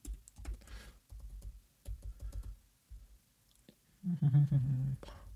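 Short bursts of typing on an iPad keyboard, soft clustered taps with pauses between, followed by a brief hum of murmured voice near the end.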